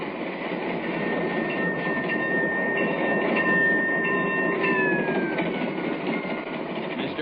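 A train rumbles along the rails between New York and Chicago in a steady, loud interior drone, with high metallic wheel squeals rising and sliding in pitch.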